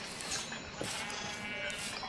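A sheep in the Minecraft video game bleats briefly, penned in a small shed, heard over a steady layer of broadband game noise at moderate loudness, with no talking.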